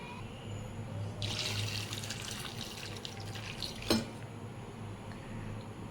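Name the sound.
water poured onto soaked chickpeas for cooking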